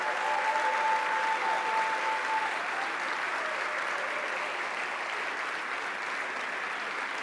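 Sustained applause from an audience at an awards ceremony, an even wash of many hands clapping throughout with a faint tonal hum early on and no cheering standing out.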